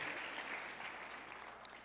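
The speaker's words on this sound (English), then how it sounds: "Big round of applause for both of those folks" A crowd applauds steadily at a charity fundraising bash, a soft, even wash of clapping that holds at a fairly faint level without breaks for about two seconds.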